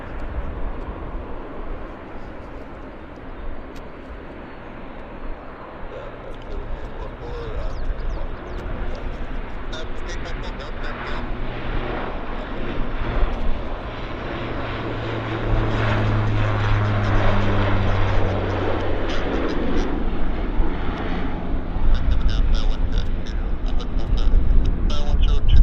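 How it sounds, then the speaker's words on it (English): Airliners departing back to back at Vancouver Airport: a sustained loud jet roar that swells and builds over nearly half a minute, with a low engine drone and people talking underneath. "So just back to back departures here."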